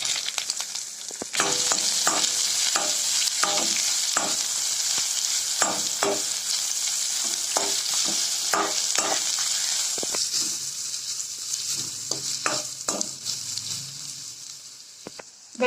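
Onions, grated ginger and garlic sauté in oil in a pan for mushroom soup, a steady close sizzle broken by frequent scraping stirs of a spoon.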